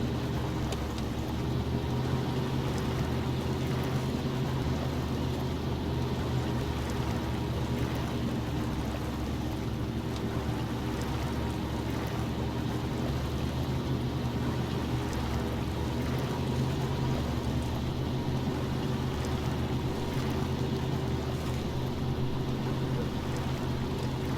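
A truck engine drones steadily in high gear as the vehicle pushes through moderate mud in the SnowRunner video game, a constant loud rumble with a churning, watery texture and no break.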